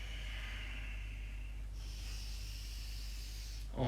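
A slow breath is let out during a calm breathing exercise, a soft steady hiss of air close to the listener with no talking, ending in a faint rustle.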